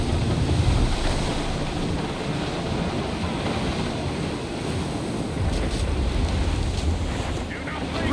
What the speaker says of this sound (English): That's quite a rough squall, Captain.